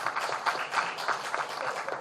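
A crowd at a Korean political speech claps, a dense, steady patter of many hands that holds at moderate volume for two seconds with no talk over it.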